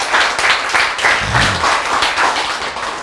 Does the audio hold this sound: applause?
yes